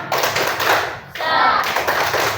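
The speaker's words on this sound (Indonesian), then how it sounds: "kita tepuk semangat dulu supaya kamu tidak bosan ya" A classroom group performs the 'tepuk semangat' rhythmic clapping chant, brisk patterned hand claps in two bursts with a brief pause between, close and lively, with voices mixed in.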